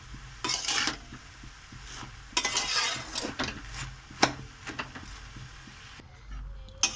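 Cabbage curry stirred in a pan with a utensil, giving scattered scraping strokes and sharp clanks against the metal over a soft sizzle, close and without talk.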